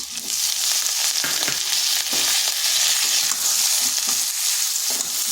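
Diced onions sizzling loudly in a hot pan, a constant bright frying hiss broken by repeated scrapes and clacks of a spatula stirring them.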